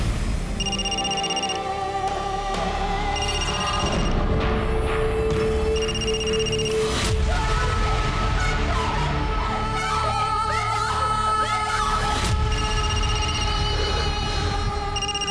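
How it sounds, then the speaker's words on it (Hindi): A telephone rings repeatedly in loud, evenly spaced bursts of electronic tones inside a home during a Hindi crime drama, with thuds and other background sounds between the rings. "देख क्यों नहीं रही किसका फोन है? कब से बजे जा रहा है, उठाना।"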